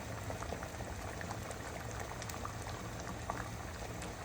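Homemade dal boils in a pot, a steady close bubbling and popping simmer that continues unbroken, with no one speaking.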